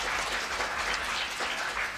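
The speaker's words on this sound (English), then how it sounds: "And a big applause to this organization." A conference audience applauds the sponsoring organizations at a closing session, a steady, dense wash of clapping that fills the whole moment at moderate loudness.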